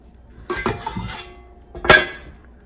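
Soft gluten-free hamburger bun dough dropped into a bowl, with a couple of dull thuds and light handling, then one sharper knock against the bowl near the end, close by and without talk.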